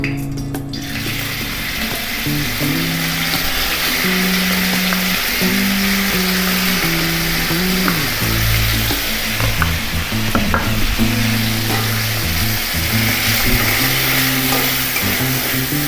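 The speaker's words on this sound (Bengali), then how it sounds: "তেলটা একটু গরম হলে মাংসটা দিয়ে দেব।" Chicken pieces fry in hot refined oil in a wok, a steady loud sizzle running throughout with repeated scraping and stirring clatter from a spatula.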